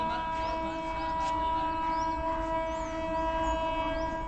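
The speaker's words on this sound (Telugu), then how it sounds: "ఇటు నుంచి హాంకింగ్, ఇటు నుంచి హాంకింగ్." WAP 7 electric locomotives on South Central Railway at Ghatkesar blow long, steady, loud horns over the continuous rumble of trains passing at high speed.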